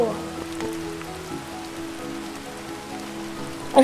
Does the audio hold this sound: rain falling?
yes